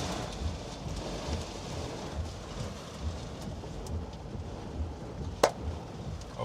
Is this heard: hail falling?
yes